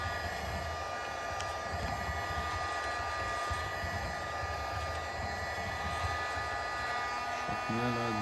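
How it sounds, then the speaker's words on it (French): A heat gun blows continuously close by, warming the back of an iPhone 15 to soften the waterproof seal: a steady, even whoosh and hum without a break. "décapeur thermique, je le chauffe. Voilà, je vais bien chauffer pour que ça ramollisse le joint d'étanchéité."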